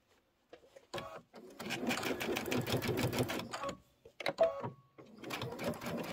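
A sewing machine stitches quilt blocks together for a bench pillow in a few close, buzzing runs, with short pauses between bursts of rapid needle action.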